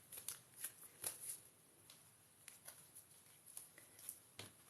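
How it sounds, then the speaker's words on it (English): A deck of tarot cards is shuffled by hand in a quiet room, giving a run of soft, close riffling bursts and taps that come at irregular intervals. "we're just shuffling these cards"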